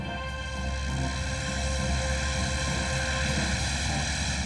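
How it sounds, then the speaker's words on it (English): Aichi Val dive bombers taking off at Pearl Harbor, their piston engines and propellers giving a loud, continuous droning roar that holds steady the whole time, with no voices. "51 Aichi dive bombers were next to leave, the Vals."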